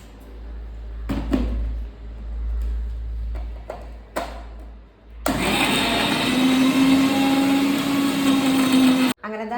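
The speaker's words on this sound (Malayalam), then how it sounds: "ഞാൻ എന്താ ബ്രെഡും പാലും മുട്ടയും കൂടി അടിച്ചെടുത്തത്" Blender whirring loudly as it blends bread, milk and eggs, a steady continuous motor roar of about four seconds that starts abruptly after some quieter clattering and handling noises and then cuts off sharply.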